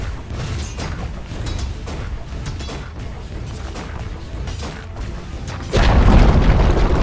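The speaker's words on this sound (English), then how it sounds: "Dire's top tower has fallen" A tower collapsing in Dota 2, a loud crashing boom with mechanical rumble breaking out near the end over dense game noise, after a stretch of steady battle sound.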